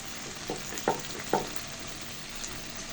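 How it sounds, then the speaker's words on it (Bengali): Chicken shashlik frying in a pan on a stovetop, a quiet steady sizzle broken by a few soft clinks or pops, faint and close. "10 থেকে 15 মিনিট ভেজে নিলে হয়ে যাবে শাঁসলিক তৈরি।"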